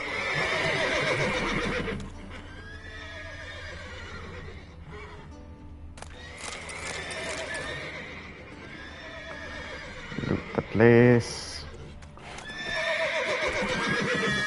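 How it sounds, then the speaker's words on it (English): Horses in Witcher 3: Wild Hunt whinny and snort amid clip-clopping hooves, with a burst of loud neighing near the end and a brief voice speaking. "I don't know, the horses are going crazy."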